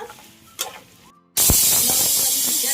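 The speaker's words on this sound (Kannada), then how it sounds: "ಇದನ್ನ ಚೆನ್ನಾಗಿ ಫ್ರೈ ಮಾಡ್ಕೊಳ್ಳೋಣ" Mutton masala for mutton saaru hits a hot pan and bursts into a loud, close, continuous sizzling hiss after a brief quiet pause with a few soft knocks.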